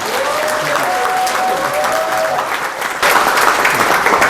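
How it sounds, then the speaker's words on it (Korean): A forum audience in a National Assembly members' hall applauds a visiting minister with steady, dense clapping from many hands, growing louder and fuller near the end. "큰 박수 주십시오."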